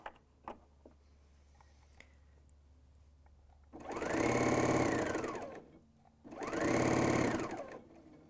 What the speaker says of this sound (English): You control the sewing speed with more or less pressure on the foot control